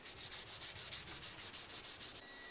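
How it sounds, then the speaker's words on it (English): A thumb plane shaving the edges of a mahogany pickguard by hand, with about a dozen steady, evenly paced scraping strokes that sound soft and close, ending in a short pause. "Beveling over the edges with my thumb plane."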